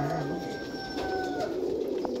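Pigeons in a dealer's flock give soft, low coos in a short murmuring run, nearby but quiet, with a thin whistle-like tone above and no talk.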